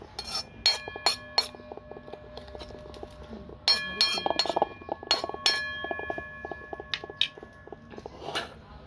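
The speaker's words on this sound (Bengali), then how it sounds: "এবার এটাকে ভালো করে আমি চামচ দিয়ে নাড়িয়ে নিচ্ছি।" A spoon clinks against a bowl while egg mixture is stirred, giving a quick run of bright, close taps in uneven bursts with short pauses between them.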